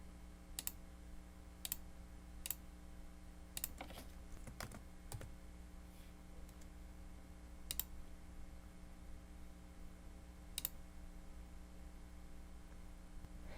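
Quiet computer mouse clicks while editing a web page, a few sharp isolated clicks spaced irregularly over a steady low electrical hum.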